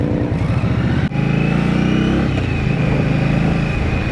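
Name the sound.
Indian Scout Rogue motorcycle engine revving, 1,100 cc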